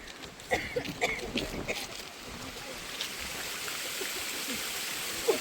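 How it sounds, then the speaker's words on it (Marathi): Steady broadband rush of the Kundalika river flowing at a village weir, with a few faint voices early on before the wash settles into a continuous roar. "ही आमच्या गावची कुंडलिका नदी"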